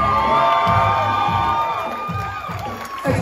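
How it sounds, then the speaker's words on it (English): Wedding guests at a reception cheer and whoop for the bride, loud overlapping shouts and whistles from a crowd in close, lively bursts, with a few higher voices among them. "let's make some noise if you think Kristen looks absolutely stunning this evening."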